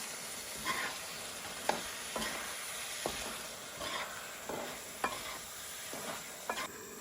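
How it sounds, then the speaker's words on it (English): A spoon stirring a cooking pot of food, soft scraping strokes at an uneven rhythm over a faint sizzling hiss, close and quiet. "Give it another stir yet again."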